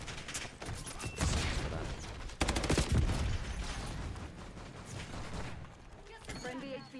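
An enemy shooter fires rapid bursts of gunfire in an online shooter game, with loud crackling volleys and sharp shots mixed with game effects and a voice talking over them.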